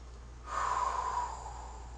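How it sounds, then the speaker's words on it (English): One deep inhale through the nose during a dancer's breathing exercise, a close, airy breath that swells for about a second and then trails off. "So inhale."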